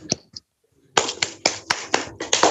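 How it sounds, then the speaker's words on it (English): At an award ceremony, a small audience claps in a sparse, uneven run of sharp, close hand claps after a brief pause, with no one speaking. "A big clap for her."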